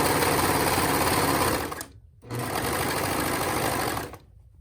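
A sewing machine stitches a fabric purse bag cover in two loud, continuous runs of rapid needle clatter, with a brief pause between them and a stop at the end.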